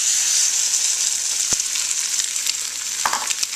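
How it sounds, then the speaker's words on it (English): Eggs poured into a pan over low heat give a loud, steady close-up sizzle that runs throughout, broken by a couple of light utensil clicks. "And I'm just going to go ahead and add my eggs."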